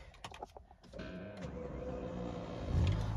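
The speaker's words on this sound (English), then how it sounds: "Active bolster just kicked on." An active seat bolster motor in a BMW M5 V10 with SMG3 whirs steadily inside the cabin, alone after a few faint clicks.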